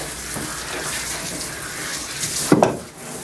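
Running water from a tap rinses the hair of a poodle mix during grooming, a steady close wash of spray with a brief louder splashing burst near the end.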